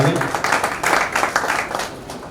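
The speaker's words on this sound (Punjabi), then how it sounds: "ਇਹਨਾਂ ਦੇ ਲਈ ਆਪਾਂ ਜ਼ੋਰਦਾਰ ਤਾਲੀ ਮਾਰਾਂਗੇ।" Loud applause fills a hall during a church ordination and certificate ceremony honoring a recipient, dense steady clapping from a crowd throughout.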